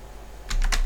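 A computer keyboard gives a few quick, close key clicks, several sharp taps bunched together over a low background hum.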